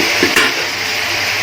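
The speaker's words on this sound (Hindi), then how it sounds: "हम अब इसमें मटन डाल देंगे" Mutton pieces go into a hot karahi for white mutton karahi, a loud close sizzle of frying with a quick stir or clink near the start, then steady crackling.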